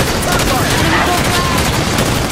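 Halo 5: Guardians Firefight battle on Stormbreak, a loud, dense clatter of rapid weapon fire and explosions blending into a continuous din, with game voices calling out over it.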